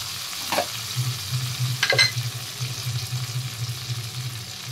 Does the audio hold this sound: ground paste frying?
yes